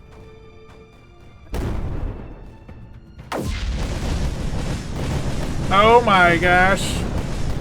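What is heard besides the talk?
missiles launching and exploding in video game Creeper World 4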